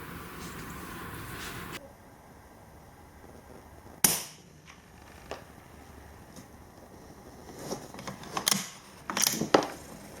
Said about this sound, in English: And again, another nice shot there.